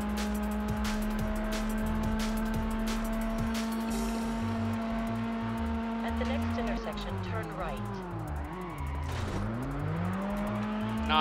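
A car weaving through traffic in the racing video game Test Drive Unlimited on PS2, with a steady loud engine drone that climbs and falls in pitch as it shifts, under game music and someone talking.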